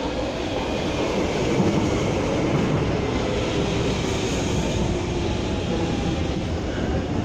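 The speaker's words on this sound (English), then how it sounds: "The next train is at platform 1." A Docklands Light Railway train rolls along with a steady, even rumble and low mechanical drone, moderately loud and continuous throughout, with no talking.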